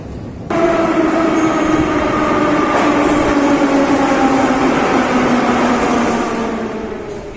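Metro train running through the deep Soviet-built Tbilisi underground, a steady loud rumble with ringing harmonic whine that sets in abruptly and holds without a break, no voices.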